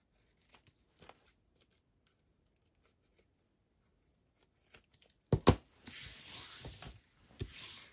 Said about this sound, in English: we're just going to chop off those little sort of ends, those little dog ears